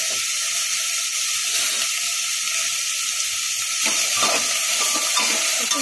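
Mixed vegetables for pav bhaji fry in a pan with a steady, close hiss and sizzle, busier and brighter in the last two seconds, with no talking.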